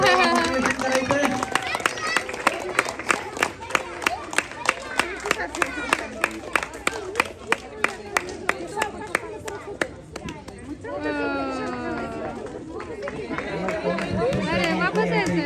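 Ganesh devotees clap in a steady, even rhythm at a lively celebration, each clap sharp and close, while people chatter and call out over them before the clapping breaks off near the end.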